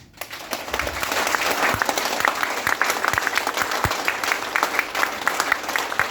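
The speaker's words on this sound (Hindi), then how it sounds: "एक एक हाथ अपने खुद के लिए तालियां बजाओ।" An audience at a leadership and business motivational event claps steadily together, a dense, loud, continuous round of applause that carries through the whole stretch with only faint murmuring beneath.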